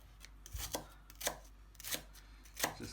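A knife chops a shallot on a cutting board in sharp, distinct strokes, about five or six clean, close thuds at a loose, uneven rhythm with no voices.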